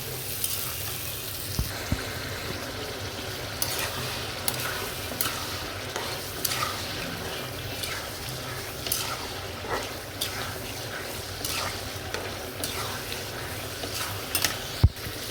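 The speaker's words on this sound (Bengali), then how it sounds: "এটি দিয়ে আমি ভালো করে কষাবো।" Zucchini and egg curry sautéing in a pan, a steady frying sizzle with repeated scraping and stirring clicks of a spatula against the pan throughout, close and fairly loud, no talk.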